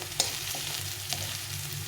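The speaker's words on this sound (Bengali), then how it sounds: "পেঁয়াজটা ভাজা হচ্ছে" Onions sizzle steadily in hot oil in a pan while a spoon scrapes and stirs them a few times, close and continuous, with no talking.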